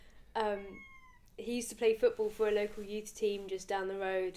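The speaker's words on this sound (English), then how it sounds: "and that's my cat." A pet cat meows repeatedly in drawn-out, fairly loud calls close by, while a person talks over it.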